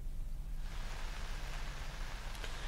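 Steady hiss of late-season monsoon rain falling, a dense broadband wash that thickens after the first moment and holds evenly, with no voices.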